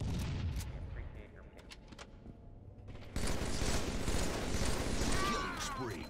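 Halo 3 multiplayer gunfire, scattered shots at first, then a denser, louder barrage of rapid fire and battle noise, with some talk mixed in.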